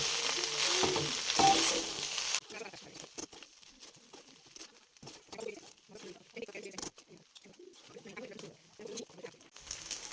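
Ground black pepper frying in a pan on the stove, with a loud crackling sizzle that drops quickly into lighter, scattered spitting and stirring scrapes, heard close by with a voice talking over it.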